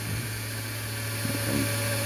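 A small power drill fitted with a 1/16 inch bit bores holes straight down through a model airplane part, a steady high motor whine with faint fluctuations as the bit bites.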